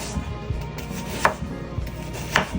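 A knife chops a yellow onion on a cutting board with a rapid, even series of crisp close knocks.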